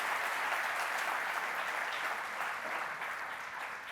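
Audience applause at a talk on software craftsmanship, a steady dense wash of clapping from a crowd that holds for the whole stretch and eases off slightly toward the end.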